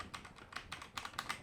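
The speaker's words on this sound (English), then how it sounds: "But these are linear red switches, and they are very clicky for my like." Mechanical keyboard with linear red switches being typed on with the WASD keys, a quick run of close, sharp clacky keystrokes in irregular clusters.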